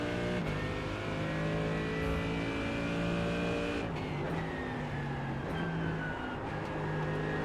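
Mercedes GT3 race car in iRacing revving hard alone, the engine note climbing steadily through the gears with brief drops at each upshift, loud and continuous throughout.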